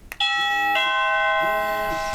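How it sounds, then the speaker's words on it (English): A bright electronic doorbell chime from a SadoTech portable alert system rings close by, a two-tone ding-dong melody with sustained ringing tones after a brief click. "and you can hear now the doorbell."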